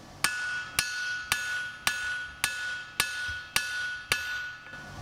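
Forging hammer striking hot metal at fairly low heat with the toe dug in to draw it out, eight sharp ringing blows at an even steady rhythm, close and clear with no talk.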